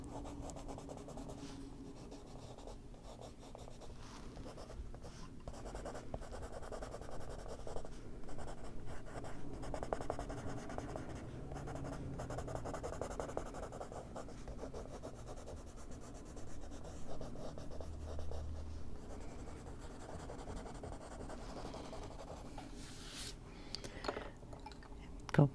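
Ivory colored pencil blending on paper, a soft continuous scratchy rubbing in close strokes that carries on steadily with small pauses and no talk.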